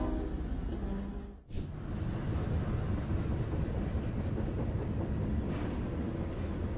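A train that has just pushed a pickup truck with a trailer near Mesquite, Texas rolls past as a steady, loud rumble with faint rail clatter, after a brief sharp drop near the start, with no voices.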